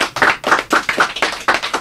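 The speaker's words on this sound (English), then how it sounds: "Hey, come on, clap." Children in a 1987 kids' radio show studio clap in quick, fairly even bursts, roughly seven crisp hand claps in under two seconds, close and loud with no talking.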